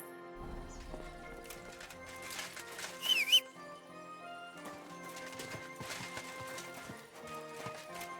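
Horse hooves clip-clopping at a walk in the medieval game Kingdom Come: Deliverance II, quiet uneven hoofbeats with a brief whinny partway through.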